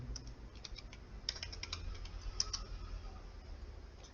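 Rapid, light keystrokes on a computer keyboard as a web address is typed during a coding lecture, a steady run of close, quiet clicks with a few sharper taps and no voices.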